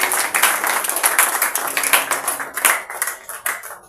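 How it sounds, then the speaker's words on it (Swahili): Church congregation clapping in praise for the Lord Jesus during a sermon, a lively run of sharp, distinct handclaps that starts full and thins out toward the end. "Tupigie Bwana Yesu makofi."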